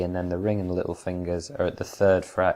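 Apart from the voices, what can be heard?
No everyday noise stands out behind the speech.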